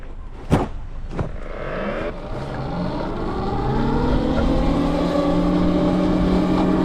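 An Evoltrix X7 electric dirt bike pulls away in first gear, its motor whine rising steadily in pitch as it gains speed after a couple of sharp knocks, close and with no talking over it.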